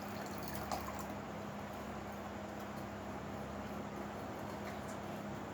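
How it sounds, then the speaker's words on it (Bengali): Milk poured into a pan for a pudding, a continuous liquid trickle and filling gurgle with a low steady hum underneath, close by. "এই যে এখন দুধ দিয়ে দিচ্ছ"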